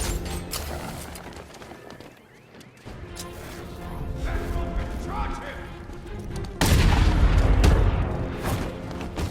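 Video game gunfire and heavy impacts in Batman: Arkham Knight, with mechanical clatter building to a loud burst of booming shots near the end. Characters talk over parts of it.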